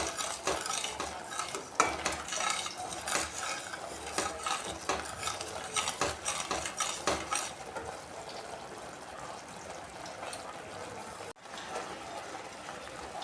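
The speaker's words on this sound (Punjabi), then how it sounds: "ਇਹਨੂੰ ਹੌਲੀ ਹੌਲੀ ਹਲਾਉਂਦੇ ਰਹਿਣਾ ਪਲਟੇ ਨਾਲ" A sweet dish is stirred slowly in ghee with a spatula in a pan over a gas flame, giving steady scraping and clinking strokes with a soft sizzle throughout, no talking.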